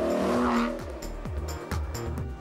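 A car on the move with its engine revving and shifting through gears, a loud steady drone at first that drops into a run of rising pitch sweeps as it accelerates.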